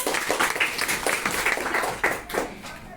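Students in a classroom burst into group applause for a classmate, a thick, continuous patter of many hands clapping nearby for a few seconds with no voices.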